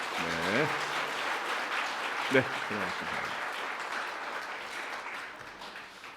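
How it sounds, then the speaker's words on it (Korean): A church congregation claps warmly to welcome the pastor's family, steady dense applause running throughout under a voice speaking over a microphone. "뜨거운 박수로 환영해 주시기 바랍니다"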